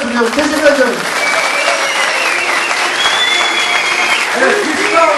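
An audience at a Turkish political party's public meeting applauds steadily throughout, with a voice talking and calling out over the clapping.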